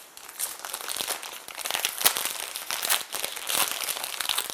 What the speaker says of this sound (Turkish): Açarken iki elin baş parmak ve diğer parmakların desteğiyle açma yerinden tutarak